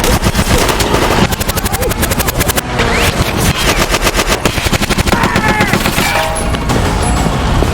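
Rapid machine-gun bursts and volleys of gunfire from a movie shootout involving armed gangsters and police, loud and continuous with dense rattling repetition and a heavy low-end rumble.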